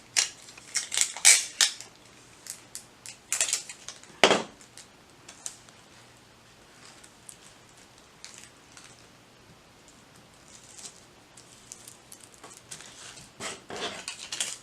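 Scotch tape is pulled and pressed onto a sewing pattern in irregular bursts of crackly ripping and tapping, close and fairly quiet, with pauses between and no talking.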